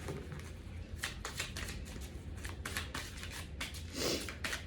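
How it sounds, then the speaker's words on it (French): Deck of tarot cards being shuffled by hand, soft close riffles and flicks in quick irregular bursts over quiet room noise. "On mélange bien le jeu pour avoir un nouveau tirage."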